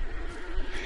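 A horse gives a brief, faint neigh in the video game Hunt, layered over background game ambience.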